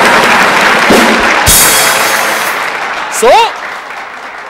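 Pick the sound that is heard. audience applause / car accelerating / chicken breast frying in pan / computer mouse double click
audience applause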